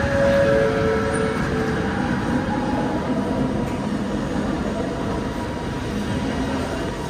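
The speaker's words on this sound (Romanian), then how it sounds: "A venit și metro acolo." A metro train in Kuala Lumpur rumbles through a station, a steady loud rolling roar that eases slightly over the seconds, with no talking.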